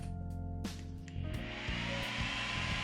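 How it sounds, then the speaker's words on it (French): Cooling fans on an Arrma Outcast 8S RC car with a Castle 2028 motor whir steadily close by, a continuous high, hair-dryer-like hum that climbs slightly in pitch and strength partway through. "on va regarder tout de suite si nos ventilateurs tournent bien"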